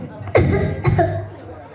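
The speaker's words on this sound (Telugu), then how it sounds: "దగ్గు తగ్గలేకపోతున్నాను డాక్టర్" Two harsh coughs in quick succession, close and loud, followed by a brief strained vocal sound.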